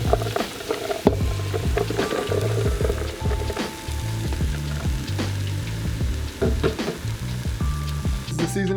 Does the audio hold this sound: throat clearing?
no